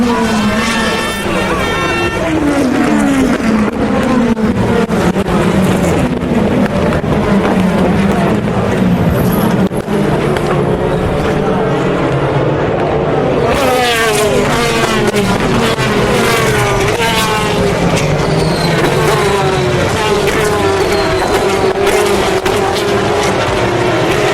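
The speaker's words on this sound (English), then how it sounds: "Listen to this. Le Mans 2014 at racing speeds." Race cars at the 2014 Le Mans race roar past at racing speed one after another, engines rising and falling in pitch with loud Doppler sweeps, a voice speaking underneath.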